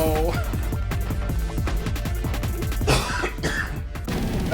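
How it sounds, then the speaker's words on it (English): A person coughs repeatedly in a string of harsh, close throat bursts with throat clearing, mixed in with speech over a steady background. "I can't stop coughing either."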